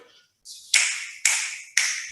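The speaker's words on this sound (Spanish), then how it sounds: "Aplaudir." Three crisp hand claps, close and evenly spaced about half a second apart, keeping the pulse during a belly dance music theory lesson, with no talking.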